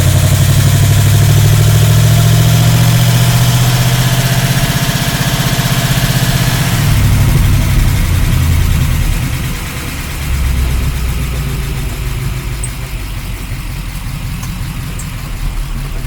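A 1953 Oldsmobile Rocket Super 88 barn find drives with a loud, steady engine drone that drops in pitch and level partway through, then settles into a lower rumble.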